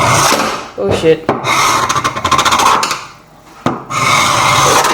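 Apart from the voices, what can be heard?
sanding down a DIY kitchen island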